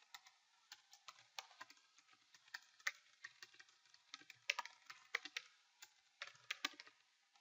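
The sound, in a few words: typing on a computer keyboard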